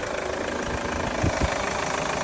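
A Chevrolet Captiva C140 diesel engine starts and settles into a steady idle, a close, continuous clattering rumble with a couple of slightly louder knocks.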